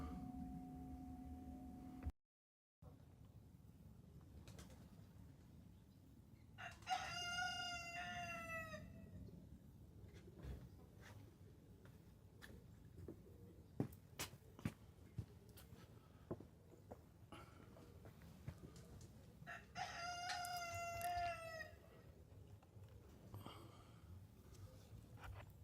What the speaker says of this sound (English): Our rooster's talking this morning.